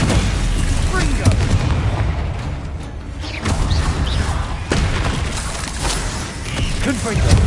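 Fiery Confringo spell blasts in Hogwarts Legacy thump and crack repeatedly amid loud, dense combat noise, several punchy bursts landing one after another with a voice calling out over them.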